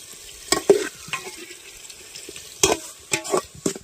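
Brinjal curry with chilli powder and turmeric being stirred in a pan while cooking in a forest, giving a few scattered scraping and clinking strokes over a low sizzle, with no talk.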